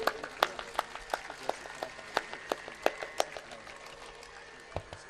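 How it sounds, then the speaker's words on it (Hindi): An audience applauds children performing yoga at a yoga session, a thin, uneven patter of individual claps at moderate distance over a steady background hum, with no talking. "एक बार जोरदार तालियां इनके लिए।"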